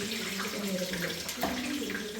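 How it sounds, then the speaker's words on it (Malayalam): Water is poured into a bajji-chilli chutney, making a soft, brief splashing trickle that stays faint and steady. "പിന്നെ വെള്ളം ഒഴിച്ച് കൊടുത്തിട്ട് ഇളക്കുക"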